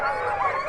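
Sled dogs in Tromso, Norway, yelping and howling together in a brief, fairly close burst of overlapping high-pitched barks.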